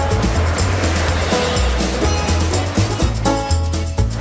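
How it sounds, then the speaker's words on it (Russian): Loud, continuous rush of rough Atlantic surf with heavy low rumble and repeated crashing swells, close by and filling the whole stretch without any voices. "Да, море не очень спокойное"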